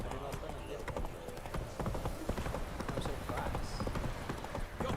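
Roach the horse trots through The Witcher 3, steady clip-clop hoofbeats running throughout with a game score and a voice over the top.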